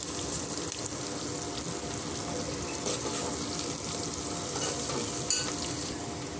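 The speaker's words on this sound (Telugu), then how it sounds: "అల్లం వెల్లుల్లి పేస్ట్ వేసుకుందామండి." Onions and cashews fry in a pan while ginger-garlic paste is stirred in for bagara rice, a loud continuous sizzle broken by scraping stirs and small clanks.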